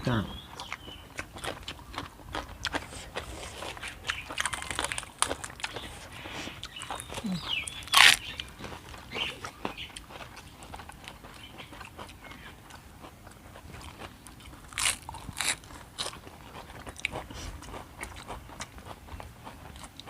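Someone eats a Thai raw shrimp salad with fresh vegetables, making soft, scattered crunches and chewing sounds close by, under frequent casual talk.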